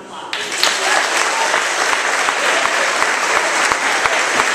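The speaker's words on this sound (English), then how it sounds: "Congratulations, let's give them a round of applause." An audience at a 2012 Buffalo Seminary student recognition day applauds the JV squash team with a loud, sustained round of dense clapping filling the room, crowd murmur faint beneath.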